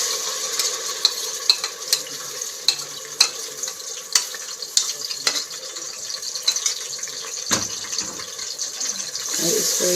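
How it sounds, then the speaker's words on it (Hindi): Garlic, ginger and green chilli paste hits hot oil for chicken degi korma, giving a steady soft sizzle with scattered sharp crackles and spatters and a stir near the end. "तो अब हम इसमें जो ऑयल है उसमें डालेंगे लहसुन अदरक और सब्ज़ मिर्चों का पेस्ट।"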